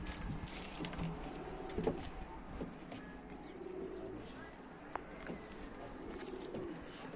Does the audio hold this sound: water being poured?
no